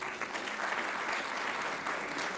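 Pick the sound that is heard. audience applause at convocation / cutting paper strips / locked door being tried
audience applause at convocation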